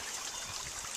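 A small decorative garden waterfall trickles in a soft, continuous wash of running water, faint and steady with no voices.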